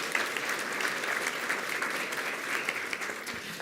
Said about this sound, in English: Can you, a round of applause